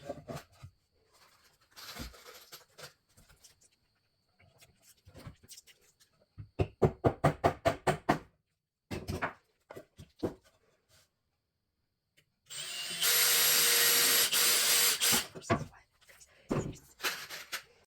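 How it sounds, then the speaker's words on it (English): Pilot holes are drilled into a small wooden mini shelf and nails are tapped in, with quick sped-up bursts of hammer taps, a long whirring drill burst and scattered knocks between quiet pauses. "let's drill in some pilot holes and add a couple nails"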